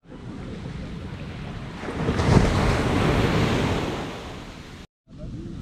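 Waves wash onto a beach at Plage des Salines in Martinique, a continuous near surf roar that swells and recedes with wind noise on the microphone, cutting out briefly near the end.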